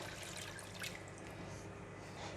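Water poured into a pot of braising pork belly with soy gravy, a soft splashing and trickling pour heard close up, continuing steadily without any voices.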